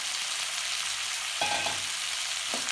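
Chickpea sundal sautéing in a pan gives off a steady close sizzle and frying hiss, with a couple of brief stirring scrapes partway through.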